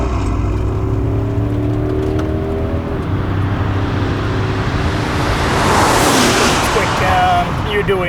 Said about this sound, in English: Put it into sport, and the sport exhaust starts.